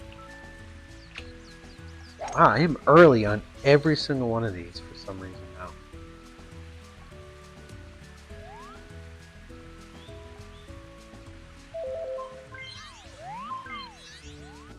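Rain falls across a golf course in the Mario Golf 64 video game, a soft steady patter running beneath game music and a player speaking, with a few brief character voice sounds near the start.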